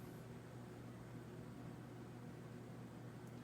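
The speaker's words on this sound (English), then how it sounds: "humming vibration to it, but that's probably likely just the mount that it's hanging from" A Charleston 38-inch ceiling fan from X-Tended Life Fan Company (Fasco) runs with a slight wobble, giving off a steady, faint low hum and vibration from its mount, continuous and alone.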